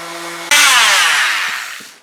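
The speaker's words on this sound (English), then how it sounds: "I'm just going to cut into the caulking groove a little bit here where there's epoxy in it" A power tool bites into the epoxy-filled caulking groove of a wooden boat seam. A low idle hum gives way to a sudden loud, harsh cutting roar that slowly fades over about a second and a half.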